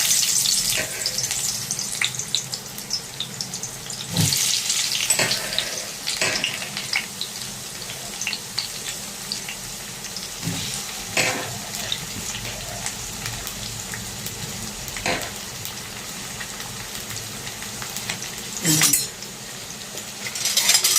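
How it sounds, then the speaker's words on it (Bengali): Raw sliced onions frying in hot oil in a wok, a faint steady sizzle through the whole stretch, with scattered clinks of a ladle and utensils and a brief rush of water near the end. "আর এই যে কাঁচা পেঁয়াজ যেগুলো আমি কেটে রেখেছিলাম সেগুলো কড়াইয়ের মধ্যে দিয়ে দিলাম।"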